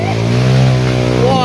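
A Honda CRF 230 dirt bike's engine drones loud and close in a strong, steady rev on a rain-soaked trail, holding a constant pitch for a moment before it shifts near the end.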